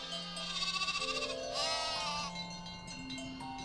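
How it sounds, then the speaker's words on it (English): Sheep in the video game Lost Odyssey bleat in a short, wavering cry, soft and fairly near, over a sustained tonal music background with no speech. "The sheep amble along after him in newly reformed ranks."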